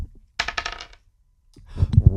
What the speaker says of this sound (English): I'm rolling the dice in 3, 2, 1.